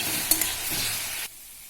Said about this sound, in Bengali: তো রসটা ফুটে ফুটে এইভাবে মাখো মাখো হয়ে যাবে, তখন আমার এই মূলো ভাজা রেডি।